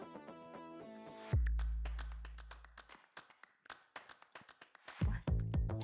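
Hands clap during a seated cardio workout, making a string of crisp, evenly spaced claps over upbeat music, with a deep bass hit and synth chords around them.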